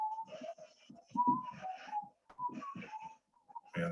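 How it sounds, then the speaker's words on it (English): A person whistles the tune Yankee Doodle, a run of clear pitched notes in a bouncy melodic phrase, close and fairly loud with short breaks between phrases. "Whistle Yankee Doodle."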